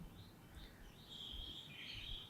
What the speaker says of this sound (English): See, so many sounds, so many birds are there.